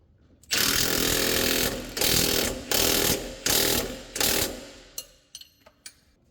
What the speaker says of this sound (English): And then I will tighten the bolt down.